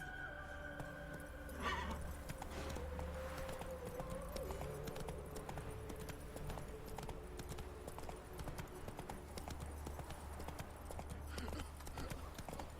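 Roach the horse gallops with steady, rhythmic clip-clop hoofbeats throughout in The Witcher 3, continuous and moderately close under an ambient game score.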